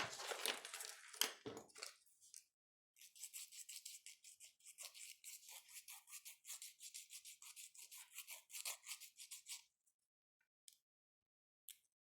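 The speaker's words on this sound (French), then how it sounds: "Et là, je viens limer." A fingernail being shaped with a nail file during a manicure, a quick run of close, soft rasping strokes in a steady rhythm, then a few isolated faint scrapes before silence.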